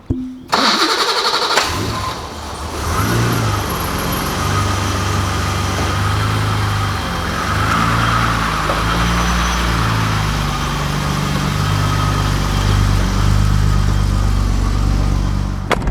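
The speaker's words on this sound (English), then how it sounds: "I'm just gonna pull the car out and we'll take a look at the results." A BMW E28/E30 engine cranks briefly and catches, then settles into a steady, close idle as the car is pulled out, running continuously with no talking.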